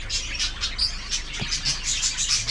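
Pet birds in a small aviary chirp and tweet in quick repeated bursts nearby, with a soft coo and a brief flutter of wings among the calls.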